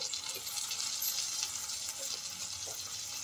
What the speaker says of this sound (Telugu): కొంచెం పచ్చివాసన పోయే వరకు అయితే వేయించుకోవాలి